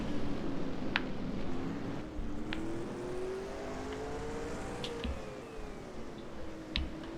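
Late model race car engines drone and shift pitch as cars circle the Atlanta Legends Oval at a distance, with a few sharp clicks and knocks over the steady roar.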